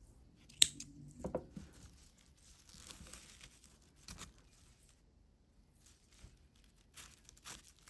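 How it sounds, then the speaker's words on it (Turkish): Scissors snip through raffia thread while crocheting a small bag, a sharp close cut near the start followed by faint crinkling and rustling of the material, quiet and without speech. "Burada ipimi kesiyorum."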